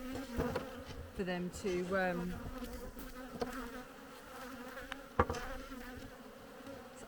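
Honey bees buzzing around a hive in August, a steady close drone with insects passing near the microphone, while a person speaks briefly over the hum.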